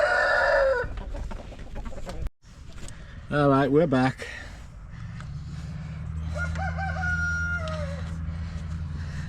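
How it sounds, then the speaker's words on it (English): Farmyard roosters that have found a hen: a rooster crows loudly and nearby, and clucking and other fowl calls follow, under a voice and steady background noise. "We have a rooster interruption here."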